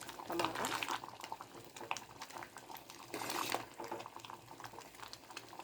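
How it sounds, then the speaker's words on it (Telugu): Moong dal with tomato and cucumber bubbles in a pot with a soft, uneven burble of boiling liquid, while a person talks over it. "దోసకాయ ఈ విధంగా ఉడికితే సరిపోద్ది"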